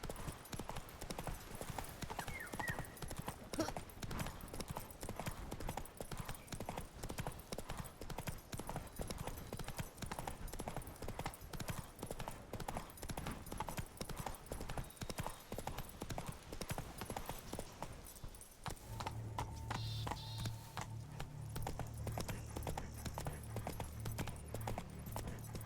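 A horse's hooves clip-clop in a steady, fairly quiet walking rhythm across the ground in The Witcher video game, followed by a brief pause and a soft rumble near the end.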